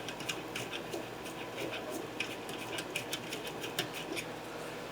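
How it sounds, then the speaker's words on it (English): A 1/4-inch nut driver unscrews the FID jet inside an Agilent 6890N gas chromatograph. Faint, close metallic clicks and light ticks repeat irregularly over a steady low hum, with no talking. "You want to use a 1/4-inch nut driver. Put it right down inside and back that out."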